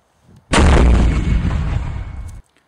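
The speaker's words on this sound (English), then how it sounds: "Why are they bombing us?" A single heavy bombing explosion in a homemade WW2 film starts abruptly and roars for about two seconds before cutting off, loud and close, with only a faint murmur before it.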